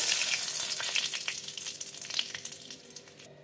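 Two bay leaves hit hot mustard oil for tempering, giving a bright, crackling sizzle that starts loud and fizzes down into scattered pops as it settles, close by with no talking.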